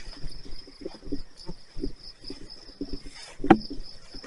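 A single cricket in a cemetery keeps up a steady high, thin chirp throughout, with soft low rustling and a brief sharp knock near the end.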